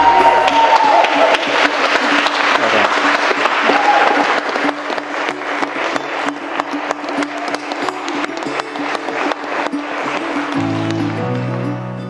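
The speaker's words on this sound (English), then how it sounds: "We'll give them a clap." Wedding guests at Malone House applaud the newly pronounced husband and wife, a full, close round of clapping from a crowd that carries on steadily for about twelve seconds, with a faint tone and other sounds underneath.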